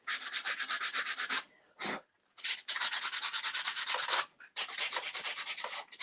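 Hand-rubbing to smooth a joint in decorative wood trim, brisk rhythmic scrubbing strokes in three bursts with short pauses between, close and clear, no talk.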